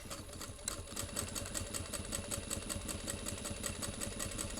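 A sewing machine back-stitches a seam on a sling crossbody bag at 3/8 inch, running in a fast, steady mechanical rhythm close up throughout.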